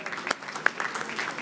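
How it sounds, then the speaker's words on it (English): An audience at an awards ceremony applauds, a loose spatter of hand claps with a few sharper, louder claps standing out over a thin, sustained background. "So they really need an applause for the commendable work that they have done."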